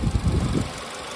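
A Nissan Almera Classic (B10) 1.6 litre engine idling up close under the open hood, a low steady rumble with a slight uneven throb that settles quieter toward the end.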